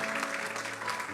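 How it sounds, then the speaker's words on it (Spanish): Applause for Christ from a church congregation during a Christian community service, a brief, soft, dense patter of clapping with a low steady hum beneath. "Denle ese aplauso fuerte a Cristo, porque Él es bueno."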